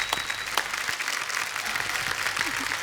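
A studio audience at a Hindi comedy talk show applauds loudly and steadily, a dense wash of clapping lasting the whole stretch with faint voices underneath.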